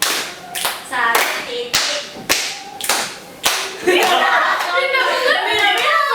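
Children and adults play a rhythmic concentration clapping game, sharp group claps in a steady pattern separated by short gaps, with voices calling and chanting between and over the claps.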